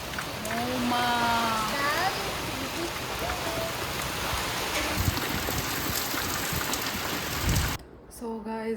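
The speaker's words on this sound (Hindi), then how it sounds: "जैसे कि आप लोगों ने देखा ही बारिश हो रहा था" Heavy rain pours down steadily during a storm in Tripura, a dense and even hiss that fills the whole stretch. A voice is heard briefly near the start, and the downpour drops off sharply near the end.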